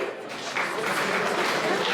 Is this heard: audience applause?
yes